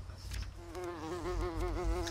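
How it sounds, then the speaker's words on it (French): A housefly buzzing in The Sims 3 Destination Adventure, a steady close wavering drone that starts after a brief moment and holds with a slight warble, over a low background hum. "Une mouche."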